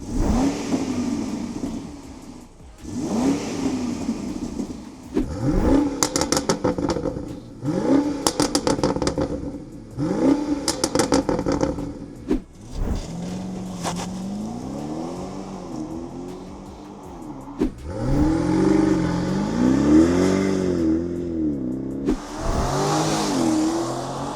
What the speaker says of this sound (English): you will hear next how the car sounds like before the OPF delete and after the OPF delete